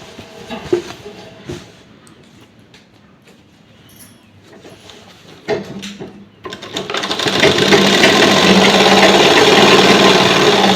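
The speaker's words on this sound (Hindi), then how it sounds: "आराम से मशीन चलाएंगे, गोलाई में मशीन अपने आप जो है इस तरीके से चल जाएगी" An electric sewing machine stitches the bottom hem of a petticoat in a round. Quiet cloth handling comes first, then the motor starts and runs as a steady, loud, close whir to the end.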